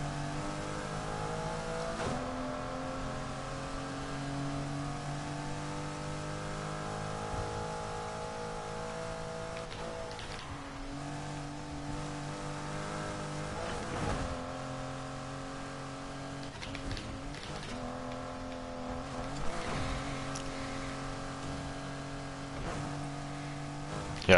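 A car engine in the racing game Need for Speed Heat revs and accelerates continuously, climbing in pitch through repeated gear shifts, with brief drops between gears, loud and close throughout.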